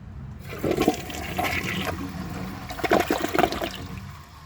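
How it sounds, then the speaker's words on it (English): A 2009 Gerber Avalanche toilet flushes with dirt in the bowl, one close rushing surge of water that swells and then drains away into a fading trickle. "Now I'm going to give this a flush, and hopefully it'll remove most of the dirt"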